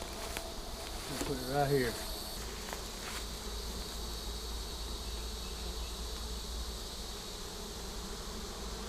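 Honeybees swarming inside a swarm box hum in a steady, low drone throughout, with a brief louder buzz near the start and someone speaking briefly over it.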